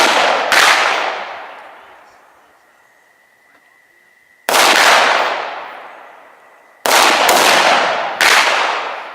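Several loud, close .243 Winchester rifle shots ring out in open air, each a sharp crack followed by a long rolling echo, with four reports spaced unevenly across the stretch and no talking between them.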